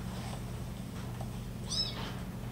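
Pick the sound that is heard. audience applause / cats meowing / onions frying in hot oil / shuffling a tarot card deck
cats meowing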